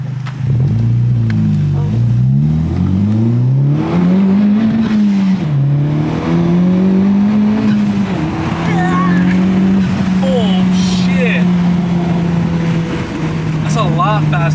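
A Honda Civic Type-R tuned with Hondata Flashpro accelerates hard, its engine note rising, dipping with gear changes, then holding a loud, steady drone close by, with voices talking faintly in the cabin.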